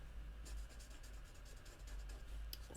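A fine calligraphy pen nib scratches across paper in short, faint strokes that come close together, quiet and intimate against a low background hum.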